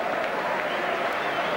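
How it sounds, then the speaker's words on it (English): Football crowd at a 1985/86 Chelsea v West Ham Division match gives warm, steady applause, a dense continuous patter of clapping across the stands under a commentator's voice. "going off to warm applause from the crowd here"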